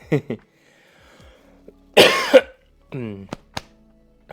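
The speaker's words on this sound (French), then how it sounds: "quel bonheur, les toux qui sont plus sèches" A few short, dry coughs close up, bursts of hacking with brief pauses between them, then a couple of quick throat-clearing sounds.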